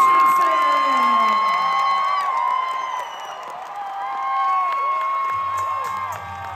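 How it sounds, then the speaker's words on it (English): Fan convention crowd at FanExpo Denver cheering and applauding for Hayden Christensen, a broad wash of cheers and whoops with clapping, steady and loud throughout. "Please, FanExpo Denver, give a big round of applause to Mr. Hayden CHRISTENSEN!"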